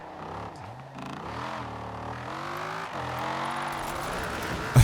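A car engine in Forza Horizon 4 accelerates hard, its pitch climbing in rising sweeps broken by gear shifts, steady and forceful with no talk.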